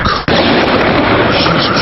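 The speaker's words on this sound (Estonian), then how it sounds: "Alguses proovisin ise ilutulestikku korraldada, aga see ei lõppenud sugugi hästi." Fireworks set off on New Year's Eve burst into a loud, dense crackling roar after a brief opening moment, continuing as sustained close-range bangs and pops.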